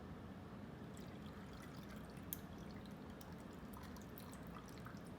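A drink, a mint julep, pouring steadily over ice cubes with a soft rushing sound and faint clinks and crackles, fairly quiet throughout.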